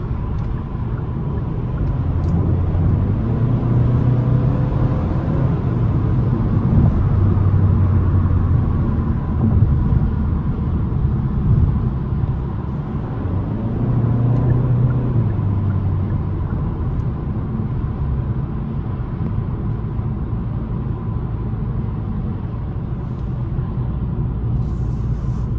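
A 2025 Kia K5 GT turbocharged sedan accelerates hard from inside the cabin, a heavy low engine drone rising in pitch through repeated surges, steady and sustained with road rumble underneath.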